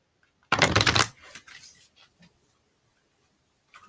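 A short burst of rapid riffling and flapping tarot cards being shuffled for about half a second, followed by softer scattered taps and near silence.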